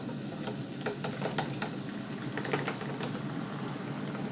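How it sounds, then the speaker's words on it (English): Homemade chips deep-frying in hot oil in a deep fat fryer, a constant bubbling sizzle broken by scattered sharp crackles and pops. "then we can fry the chips for 2 or 3 minutes until they're golden"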